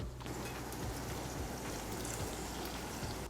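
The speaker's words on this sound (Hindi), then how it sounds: "इसके अंदर मैं ऐड करूँगा थोड़ा सा पानी और फिर डालूंगा पिसे हुए मसाले।" Water poured onto browned onions in a hot pan gives a constant, dense sizzle and hiss, close and even throughout, with no speech.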